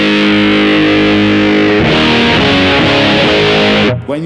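An electric guitar plays through a Jam Pedals Red Muck fuzz pedal with gain at about two-thirds, loud, thick sustained distorted chords that shift midway and cut off abruptly at the end.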